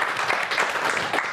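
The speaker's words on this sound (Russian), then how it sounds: "Давайте их встречать бурными аплодисментами." Stormy applause from a studio audience welcoming school and kindergarten guests onto a Gomel district evening TV show, a dense steady burst of clapping filling the whole short moment.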